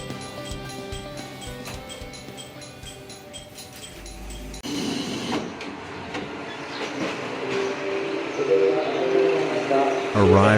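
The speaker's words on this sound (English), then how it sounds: "This train will soon arrive at the Rumoi terminal." A train pulls into Rumoi Station on an abolished Japanese main line, heard from inside the car: a low engine drone and rattling wheels over rail joints, growing louder near the end with squealing as it slows, while an onboard announcement plays.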